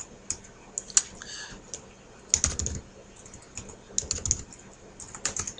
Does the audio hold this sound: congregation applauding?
no